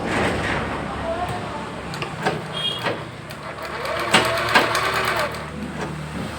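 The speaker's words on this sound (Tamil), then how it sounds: "அப்படியே ஊசியோட தையல் போட்டுக்கிறோம்" Sewing machine stitching the round neck of a lined blouse, a steady close mechanical whir running throughout, with a voice speaking over it.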